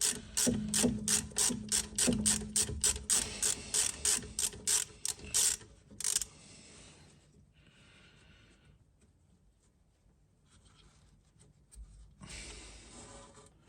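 A ratchet rapidly clicks as it loosens the rear brake caliper slide bolt on a Volvo V70, S60 or S80, a close dense run of ratchet strokes followed by quieter handling and one more short burst.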